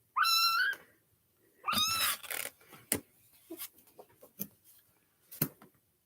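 A cat meows loudly close by, two long drawn-out calls a second apart, followed by softer scattered clicks and small handling noises.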